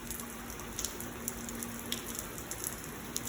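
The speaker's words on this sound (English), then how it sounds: "It's raining hard again." Heavy rain pours down in a thunderstorm, a steady close hiss broken by scattered sharper drops striking a surface, with no thunder evident.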